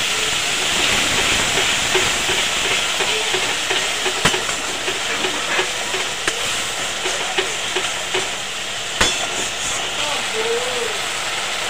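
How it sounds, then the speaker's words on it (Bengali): Spice-washing water poured into a pan of spice paste frying in oil, giving a steady broadband hiss and sizzle with a few sharp crackles, close and continuous throughout. "এবার মশলা ধোয়া জল যেটুকুনি ছিল এটাও মশলাতে দিয়ে দেবো।"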